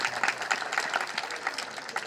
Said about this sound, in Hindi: जोरदार तालियां बजाएं इस घराना के लिए।